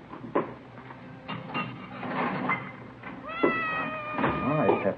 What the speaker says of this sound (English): It's a nice cat you got there. Siamese?